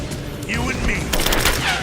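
Gunfire from an enemy firefight in Rise of the Tomb Raider, bursts of shots layered over constant loud combat noise, with shouted voices from the game mixed in.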